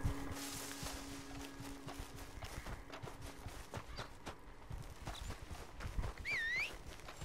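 Horse hooves clip-clopping at a walk in the Red Dead Online video game, a faint, steady run of soft hoof thuds with a brief whinny near the end.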